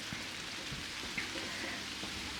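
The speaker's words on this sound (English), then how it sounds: "He's standing out in the rain." Rain falling outdoors makes a steady, broad hiss throughout, with a few soft low thumps underneath and no voices.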